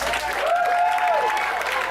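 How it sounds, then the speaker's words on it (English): Audience applause for Mr. Walton at a lively gathering: a steady, dense wash of many hands clapping close by for about two seconds, with a thin sustained tone riding over it. "let's keep that clapping going"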